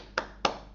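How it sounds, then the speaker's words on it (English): Two sharp hand claps about a quarter second apart, crisp and fairly close, in a quiet room with no talking. "3 claps."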